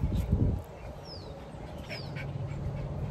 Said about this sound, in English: Goose, oh my goodness.